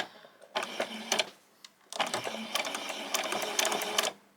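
A domestic sewing machine runs two short back-stitching bursts on fabric for summer shorts, a quick rattling stitch rhythm, pausing briefly, then a longer steady run close by.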